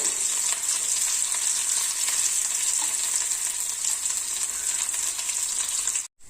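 Shallots and dried red chillies fry in a pan for brinjal curry, giving a loud, steady, close sizzle for about six seconds before it cuts off abruptly.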